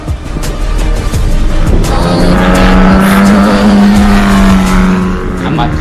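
A Formula 4 race car speeds along a track, its loud, steady engine roar holding a rising and sustained pitch across the whole stretch, with a commentator's voice heard alongside.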